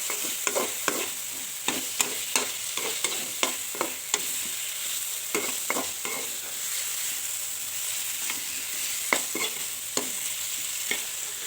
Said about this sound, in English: add the fried chicken meat into a frying pan with salt spicy in it, then stir the spicy and meat evenly